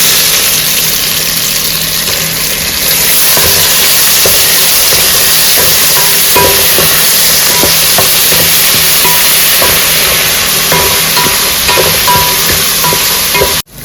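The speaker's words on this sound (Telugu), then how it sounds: "కొబ్బరి కొంచెం వేగిందండి" Steady loud sizzling and hiss of grated coconut frying in a pan for chicken biryani masala, with soft scraping taps from stirring scattered throughout.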